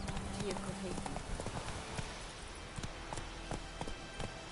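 Horse hooves clip-clop steadily at a trot in The Witcher 3, mixed with dense game ambience and music, while a voice speaks.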